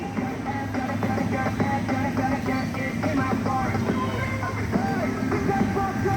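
A train rolls along the rails with a steady, dense rumble and repeated rhythmic clatter from the wheels, loud and continuous throughout with no speech.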